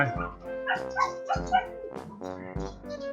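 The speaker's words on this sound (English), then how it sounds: "My dog is protecting me from something, but I don't know what it is." A dog barks repeatedly nearby, with several sharp woofs and yips in an uneven rhythm, clear and fairly loud with no talk over it.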